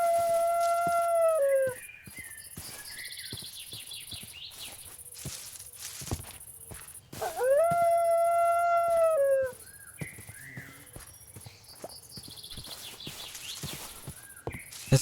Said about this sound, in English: This dog is so loud.